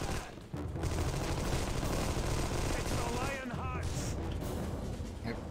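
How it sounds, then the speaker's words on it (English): Rapid gunfire and explosions from the third-person shooter video game Armed & Dangerous, dense continuous bursts filling the clip, with a player's voice talking over the game action. "Just have to shoot the assholes off of them."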